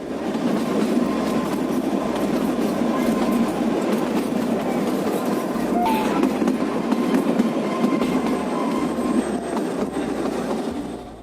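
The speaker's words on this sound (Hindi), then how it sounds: "छुक छुक करती ये रेलगाड़ी हरियाणा के कालका से शिमला तक चलती है।" A Kalka–Shimla toy train runs along the mountain railway from Kalka in Haryana to Shimla, its loud, steady rumble and rhythmic wheel clatter continuing throughout, with a brief metallic squeal partway through.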